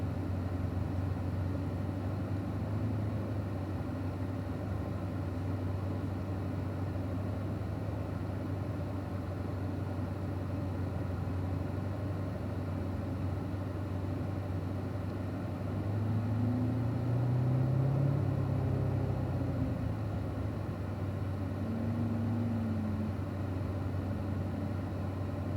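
Car rolling out onto a race track for a warm-up lap, a steady low engine drone heard from inside the cabin, swelling slightly in pitch midway before settling back to an even hum.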